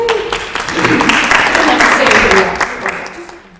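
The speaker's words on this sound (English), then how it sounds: "There's a smattering of applause" A scattered round of clapping and cheering fills a chapel gathering, a moderately loud, uneven patter of hands that holds steady before thinning out at the end, with voices mixed in.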